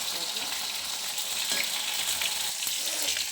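Food fries in a pan with a close, dense sizzle, broken by a few sharp scrapes or knocks as pieces are turned or lifted, with no talk.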